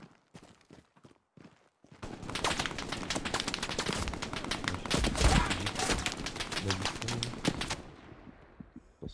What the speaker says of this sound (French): Il y a une vilaine mitrailleuse sur le flanc gauche du village où il y a l'église.